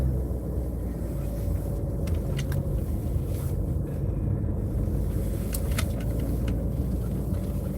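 A car pulling over on a small-town Pennsylvania road during a delivery drive: a steady, close, unbroken engine and road rumble, heard from inside the cabin, with faint clicks and no voices.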